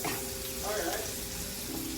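Buttered shrimp frying in a pan, a steady close sizzle with stirring scrapes over it, continuous and fairly loud throughout.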